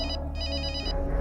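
A phone rings with a repeating electronic ringtone of rapid pulsing chirps, moderately loud over a steady low background hum, stopping shortly before the end.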